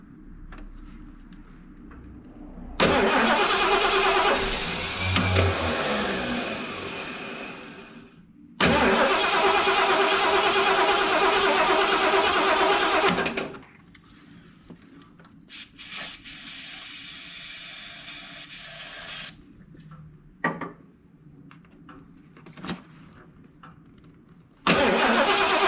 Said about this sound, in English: cranking. This is why we're replacing the starter.